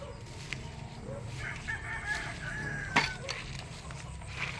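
Chickens in a laying hen coop on a mini farm cluck and crow, with a rooster's call rising above soft, fairly distant clucking and farmyard background.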